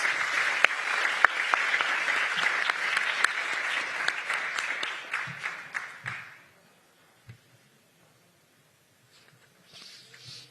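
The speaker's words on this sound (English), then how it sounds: "Let us give a round of applause to Ms. Fiona Charisma Francis." An audience at a national ICT safety competition final applauds, dense steady clapping that dies away after about six seconds into near silence with faint noises.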